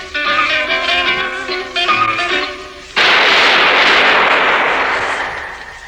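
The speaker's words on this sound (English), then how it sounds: "That was the shot that killed Harry Lime." In an old-time radio drama, a single loud gunshot effect cuts off a passage of zither music and rolls away in a long, booming echo.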